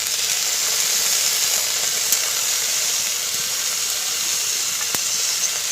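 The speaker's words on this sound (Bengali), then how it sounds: "কড়াইয়ের মধ্যে কিন্তু আমি এবার এই ছোলাগুলো দিয়ে দেবো," Ridge gourd peels fry in a hot wok with a steady, even sizzle that hisses on without pause, close and moderately loud, with no one speaking.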